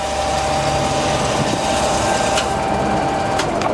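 A Jones & Shipman 540 hydraulic surface grinder with its original magnetic chuck runs through its cycle, giving a steady, continuous machine hum and whine with a couple of faint ticks, heard alone with no talking.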